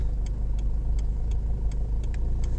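Car driving through traffic, with a steady low engine rumble and road hum filling the cabin and a soft, regular ticking like an indicator over it, no talk.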